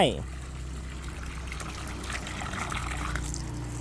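Tap water runs in a steady splashing stream while someone washes their hands, with people talking over it.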